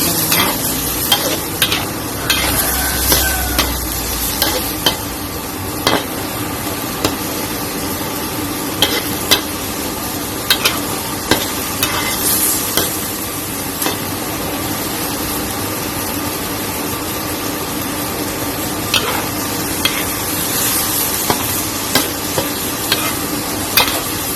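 Mixed vegetables and pork are stir-fried in a pan with oyster sauce. A continuous loud sizzle runs under frequent, rhythmic spatula scrapes and clanks against the metal, close up and sustained throughout.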